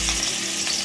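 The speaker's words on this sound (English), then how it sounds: "fry the chingri on both the sides just for a minute" Shrimp fry in smoking-hot mustard oil in a kadai over a high flame, giving a steady, close, loud sizzle with a crackling hiss that holds through the whole moment, with no voices.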